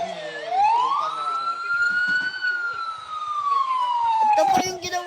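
A police siren sound effect wails loudly and continuously, rising quickly, holding high, then sliding slowly down, with a brief burst of noise near the end.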